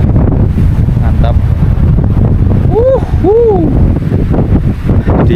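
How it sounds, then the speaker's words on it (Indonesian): Strong, steady wind roars into the microphone on an open trail up Mount Wilis from Madiun during a storm, loud and unbroken throughout, while a person briefly speaks or calls out in the middle. "Dan angin masih sama aja"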